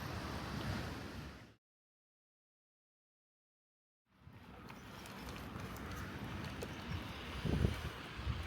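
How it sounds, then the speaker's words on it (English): Ocean surf breaking on a shore seen from a bench along the coast on a ride to Kuantan, Malaysia, a steady broadband wash with wind on the microphone, cut by a few seconds of total silence before the rushing resumes. "look at the waves for a little bit"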